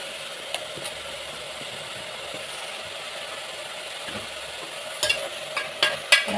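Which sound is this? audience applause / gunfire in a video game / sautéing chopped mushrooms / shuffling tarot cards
sautéing chopped mushrooms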